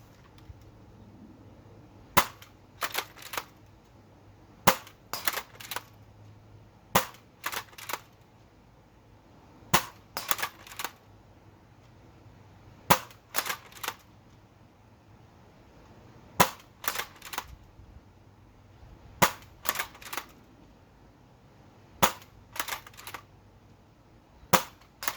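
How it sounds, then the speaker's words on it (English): A Dart Zone Pro toy blaster with a full-size magazine fires bamboo darts at a target at 50 feet, giving sharp snapping shots in quick pairs and triplets repeated at regular intervals over quiet background. "We're going to start with the Dart Zone Pro with the full-size magazine shooting the bamboo darts that they come with."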